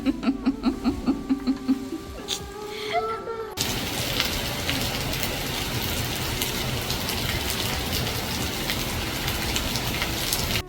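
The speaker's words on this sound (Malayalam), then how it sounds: "വീണ്ടും ഇതാ മഴ തകൃതിയായി പെയ്തുകൊണ്ടിരിക്കുകയാണ് ഇവിടെ" Heavy rain pours down in a dense, steady roar that starts abruptly after a short stretch of someone laughing, then continues alone to the end.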